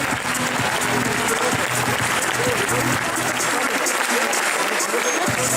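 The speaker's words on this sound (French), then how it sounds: "Les applaudissements à nouveau, s'il vous plaît" A crowd at a youth sporting event's prize ceremony applauds the trophy winners, a loud, continuous wash of clapping that holds steady for several seconds with a faint background hum.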